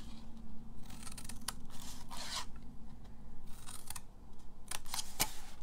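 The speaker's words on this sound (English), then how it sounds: "now we're going to cut on each side up to the 1 inch fold mark" Scissors cut along paper or fabric on each side up to a fold mark while crafting, giving several short, close snips and slicing bursts in a quiet room with no talking.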